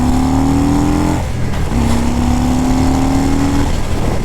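A motorcycle engine fitted with a PV4 and its stock tune, loud and close, revving up with a rising pitch, a short dip around the middle, then climbing again.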